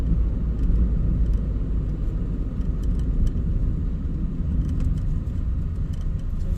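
A car drives steadily along a road, a loud continuous low rumble of engine and tyre noise with faint ticks and rattles from inside the cabin and no voices.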